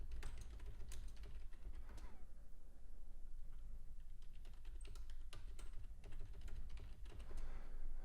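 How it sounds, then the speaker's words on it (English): Rapid typing on a computer keyboard close by, a steady patter of clicky keystrokes with brief pauses, continuing throughout against a quiet room. "if you hear the typing, you're not going crazy."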